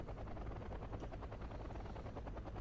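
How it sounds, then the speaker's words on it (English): Several military helicopters in the Wargame: Red Dragon strategy game, a steady loud rotor thrum with rapid chopping pulses that fills the whole clip without any talk. "Now we immediately spot a crap load of helicopters."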